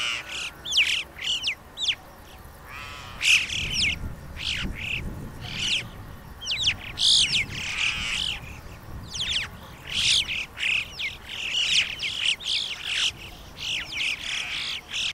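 Red-billed chough giving a steady series of sharp, ringing calls, repeated every half second or so, fairly close and clear against a low background hiss.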